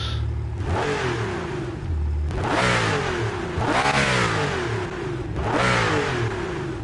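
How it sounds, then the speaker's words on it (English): A Porsche engine in the GT Icons racing game revs hard several times, each rise sweeping up sharply and then dropping back toward idle. The bursts are loud and close, with no voices. "It's the same noise, engine noise."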